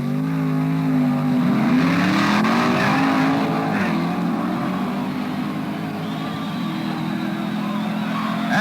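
Funny car drag racing at the 1967 NHRA US Nationals, a blown Chevy Camaro against a 1967 Mercury Comet: loud, sustained engine roar with rising revs as the cars launch and run, steady throughout with no talk.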